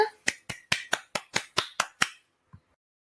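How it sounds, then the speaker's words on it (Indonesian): Nine sharp, evenly spaced claps ring out close and clear in an animated children's lesson about animals, followed by silence and one faint soft tap. "Yuk tepuk tangan semuanya."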